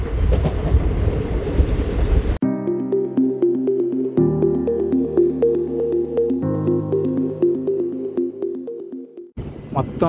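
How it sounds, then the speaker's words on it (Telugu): Sabari Express train rolling along rails in Telangana, heard from on board with a steady rumble and harmonic hum, cut off by a sharp change partway through and resuming near the end. "మన ట్రైన్ ఒక బ్యూటిఫుల్ టర్నింగ్ తీసుకొని తెలంగాణ లైన్లోకి అయితే ఎంటర్ అయిపోయింది."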